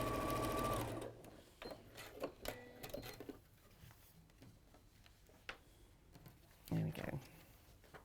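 A sewing machine stitches a turned-over hem, a short loud run of rapid mechanical whirring at the start, then softer intermittent clicks and handling noises, with people talking over it.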